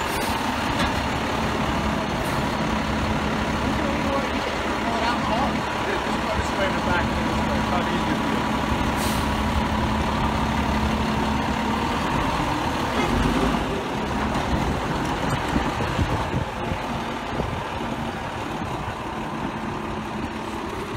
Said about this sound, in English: Pulling out engine 161 for a few photos.